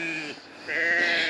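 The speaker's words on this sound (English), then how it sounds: "We found some sheep here." A sheep on a farm in Arethousa, Ikaria, Greece, gives two close, clear bleats, a short one followed by a longer, wavering cry.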